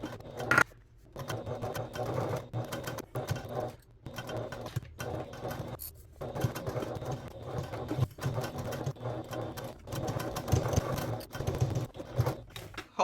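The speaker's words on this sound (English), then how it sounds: "So let's go to the sewing machine and top stitch this binding onto the flap." A sewing machine top stitches binding onto the flap of a crossbody bag, whirring in bursts of stitching broken by short pauses, with no voices.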